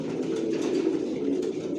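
Adult racer pigeons coo close by in a soft, continuous low murmur, with no voices.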